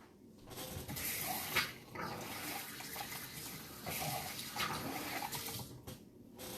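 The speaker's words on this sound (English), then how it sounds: "I'm just going to wash my hands and I'll be right back" Hands being washed under a running kitchen tap, a steady close rush of water with shifting splashes as the hands move through the stream, stopping near the end.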